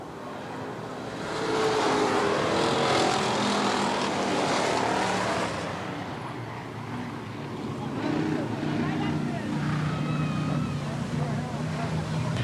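Race cars lap Eugene Speedway, a broad roar of engines swelling and fading at a distance, with an announcer calling the race over the noise and wind buffeting the microphone.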